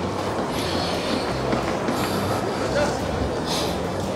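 A tram rolling through a busy city tram station in Zagreb, a steady loud rumble of wheels on rails with occasional squeals, continuous throughout with street noise around it.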